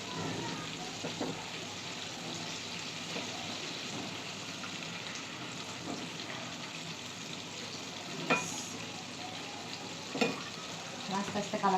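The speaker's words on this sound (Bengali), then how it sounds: "একটু লো ফ্লেমে রেখে ভাজতে হবে।" Chicken marinated with soy sauce and household ingredients fries on a low flame, producing an even, rain-like crackling sizzle throughout with a few louder pops toward the end.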